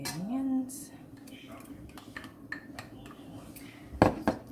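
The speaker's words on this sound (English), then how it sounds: "all you're looking for here is a really good mix to mix everything around so it looks consistent right the way through" Tabouleh with fresh mint and red onion being tossed together in a bowl: soft, scattered rustling and light scraping, then a sharper clatter of utensils against the bowl near the end, with a faint voice-like hum at the start.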